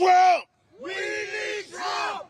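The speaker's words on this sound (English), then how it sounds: "We got a rowdy crowd down here" Rowdy crowd at a Trump rally in Hialeah, Florida, roaring and yelling in three loud surges, the first short and the next two longer, with a brief gap of quiet between the first two.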